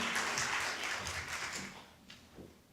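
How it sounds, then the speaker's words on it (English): Audience clapping at an evening community meeting in a church hall, a steady spread of applause that gradually thins and fades out, with a few last isolated claps near the end. "let's give Julie a round of applause for being here tonight"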